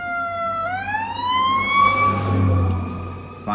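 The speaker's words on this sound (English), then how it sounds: "Fire truck. Not a police, but, you know, you'll hear that from time to time too." A fire truck siren wails nearby, its pitch sweeping upward in a rising tone over a low engine rumble, loud and steady for several seconds before a brief clatter at the end.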